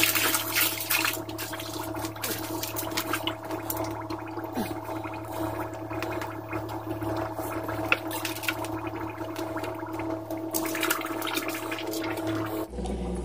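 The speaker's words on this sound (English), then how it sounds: "Draining the tank obviously is going to be the safest and easiest way to catch all these fish." Aquarium water draining out of a cichlid fish tank, a steady gurgling, flushing rush of water that runs continuously close by, with no talk.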